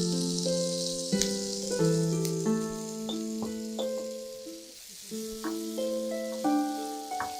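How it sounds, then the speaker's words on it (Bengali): Onion and capsicum frying together in a pan, a steady broadband sizzle running throughout with quiet background music over it, no talking. "পেঁয়াজটাকে ভেজে একটু নরম করে দিচ্ছি।"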